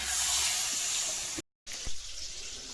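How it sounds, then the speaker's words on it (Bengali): Water poured into a pan of thin fish curry, a steady bright rushing splash that breaks off briefly and then resumes. "জল দিয়ে দেবো"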